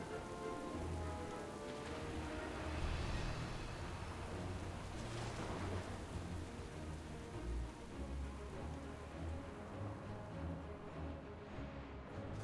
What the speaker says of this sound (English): Captain, we can't weather this storm for long.